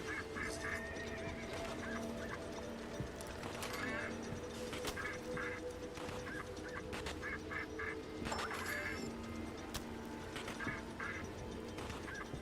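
Ducks quacking and honking in Fallout 76, repeated nasal calls in short clusters spread across the stretch under a steady game backdrop, with a voice talking at times.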